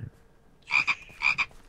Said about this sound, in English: the freaking frogs, man